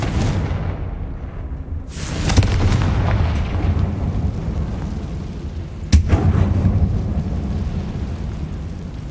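Two heavy Confringo fire-spell blasts in Hogwarts Legacy, set inside a closed mine: each a loud booming explosion with a rumbling tail, the second about four seconds after the first, over steady low ambient rumble.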